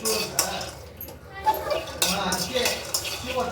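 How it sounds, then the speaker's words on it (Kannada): Peanuts dry-roasting for chutney rattle and scrape in a pan as they are stirred, a close, busy clatter of dry pieces against metal that continues throughout. "ಚಟ್ನಿಗೆ ಕಡಲೆ ಬೀಜ ಹುರ್ಕೊತಾ ಇದ್ದೀನಿ"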